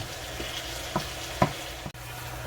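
Juice bubbling and sizzling in a pan on a stove while chicken for Mexican street tacos cooks: a steady hiss with a few soft pops and a clunk of a utensil.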